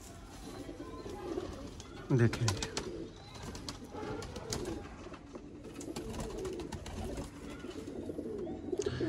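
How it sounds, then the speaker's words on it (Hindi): Firozpuri pigeons, including a red female in a breeding pair, coo in soft repeated rolling calls close by, with someone speaking over them. "फिरोजपुरी कबूतर है।"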